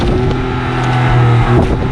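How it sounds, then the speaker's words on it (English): Engine of a 2020 Hyundai i20 turbo with a 120 PS engine and DCT gearbox while driving, a loud, close, steady hum with tonal whine rising slightly as it pulls, no talk. "today what I'm driving is a i20 DCT 120 PS powered engine with a DCT gearbox"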